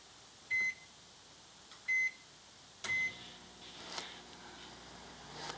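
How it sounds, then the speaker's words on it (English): A microwave oven warming a short shot of milk gives three evenly spaced electronic beeps, then the door opens with a clunk and soft kitchen handling noises follow; no talking. "just going to do like 10 seconds shot here in the microwave"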